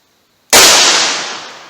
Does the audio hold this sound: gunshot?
yes